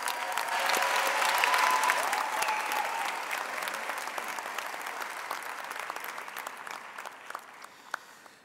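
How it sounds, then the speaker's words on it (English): Applause from a graduation ceremony audience, a dense, steady wash of clapping that is loud at first and gradually thins and fades toward the end, with no talking over it. "Let's give them all a round of applause"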